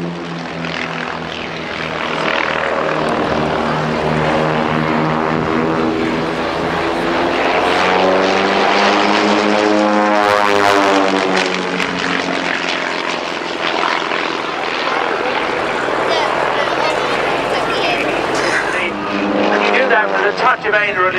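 Propeller aircraft flying a formation barrel roll at an airshow make a loud, continuous engine drone whose pitch sweeps up and down as they pass overhead, with a commentator talking over it.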